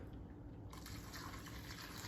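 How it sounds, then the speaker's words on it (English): Beef broth and water pour into a pot of onions, a steady liquid rush that fills out and grows louder partway through, alone with no talking. "So we're adding some beef broth. We're gonna add some water."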